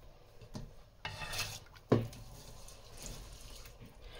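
Pot and utensils clatter and scrape in short bursts while ingredients for Sindhi pearl millet khichdi go into a pressure cooker of hot water, with one sharper clank near the middle and soft rubbing between.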